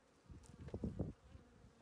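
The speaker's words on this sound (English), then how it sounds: "I'll put a half a cup of bees in here" Honeybees buzz in a jar during a varroa mite test, a faint, close, low drone that swells briefly and fades within two seconds.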